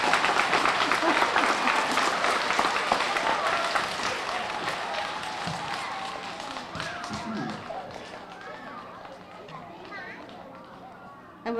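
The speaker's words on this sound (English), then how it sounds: "Are you applauding because of your teachers? Good, good. Give them another hand." School children at an elementary school celebration applaud their teachers, a dense burst of clapping that gradually thins and fades, with a voice speaking over the crowd.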